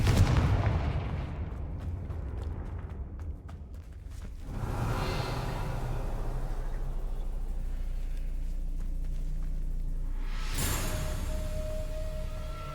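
Confringo fire spell blasts in the Hogwarts Legacy video game: a heavy boom at the start, another burst around the middle and a sharp crack near the end, over a low rumbling game background, with no speech.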